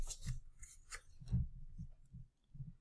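Scissors cutting paper for a Valentine collage postcard: a few close, dry snips and crisp rustles separated by short pauses in a quiet room.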